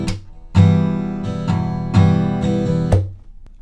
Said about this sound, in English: The strumming pattern that we're gonna do sounds like this.